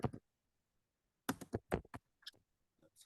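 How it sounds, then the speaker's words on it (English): Computer keyboard typing in a dark room, with scattered clusters of quick, crisp key clicks separated by short pauses, close and fairly quiet, with no voices. "I'm typing in the dark"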